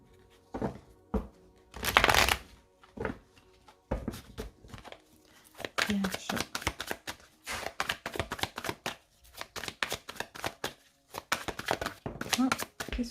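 Tarot cards being shuffled by hand: a series of papery riffles and soft slaps in uneven bursts, close and fairly crisp, with a brief louder flurry early on and steady rhythmic shuffling after.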